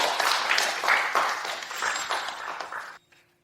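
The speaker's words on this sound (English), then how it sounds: "Please give him a round of applause." An audience applauds at a formal event welcoming Mr. Ethan Shen to speak, a dense steady clapping for about three seconds that stops abruptly, leaving near silence.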